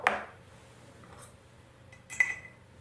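A vintage green glass frog is handled, giving a sharp glassy knock at the start and another bright clink about two seconds later, with faint rustling between, close and quiet.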